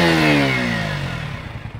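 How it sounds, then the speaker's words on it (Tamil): A KTM RC 125 motorcycle exhaust note, loud and close, with a high revving engine tone that falls steadily in pitch as the revs drop over about two seconds. "இதோட எக்ஸாஸ்ட் நோட் கேளுங்க"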